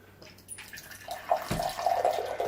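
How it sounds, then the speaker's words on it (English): Filtered water pours from a compact water filter pitcher, a steady trickling stream that builds and grows louder as it goes, with a brief splash midway. "And as you pour the water, let's go ahead and try it."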